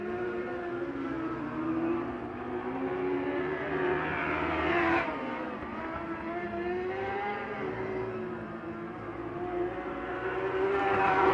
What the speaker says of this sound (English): We'll see if that motor sounds up to par here as he comes by the front straightaway